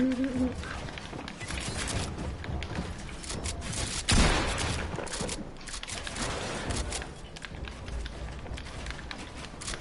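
Gunfire in a fast-paced video game, with a dense, continuous clatter of shots and footsteps and one louder boom about four seconds in, mixed and steady throughout with no talk.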